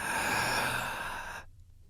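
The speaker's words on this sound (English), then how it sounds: "For 2 minutes, I want you to take deep breaths." A long deep exhale of breath, close and fairly loud, fading out abruptly before a short silence.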